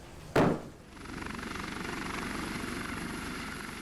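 After a short thump, a helicopter's rotor thuds steadily in a fast rhythmic beat, moderately loud and constant.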